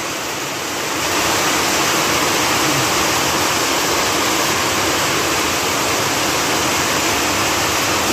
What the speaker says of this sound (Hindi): देखो बारिश बारिश बारिश